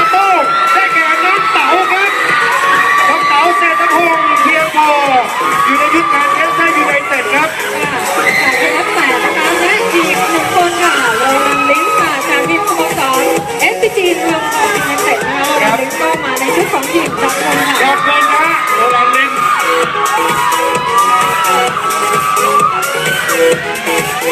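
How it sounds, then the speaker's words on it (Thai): A large crowd of fans at a fashion show cheers and screams continuously, with high-pitched shrieks and whoops blending into a loud, steady roar throughout. "เลยขอให้แฟนคลับของเต๋านะครับได้กรี๊ดกันไปก่อน"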